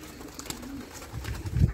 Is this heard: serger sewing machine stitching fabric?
no